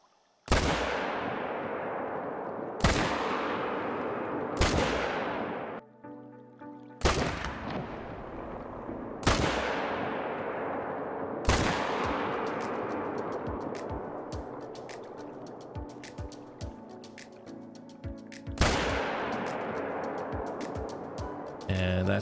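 Gunfire from hunting gray wolves in the video game Call of the Wild: several loud, sharp rifle shots spaced a few seconds apart, each with a long decaying echo, with mechanical reload clicks in between.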